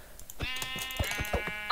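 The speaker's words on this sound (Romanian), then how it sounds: "Ia uite și o oaie" A sheep in the video game Minecraft gives a few short bleats in a row, clear and close, with no talking.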